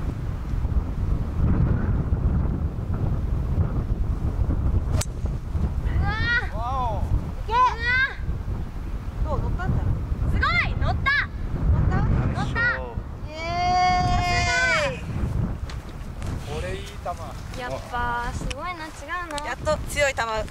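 Strong, gusty wind buffets the microphone on a golf course, a continuous low rumble running throughout while several people talk and exclaim over it.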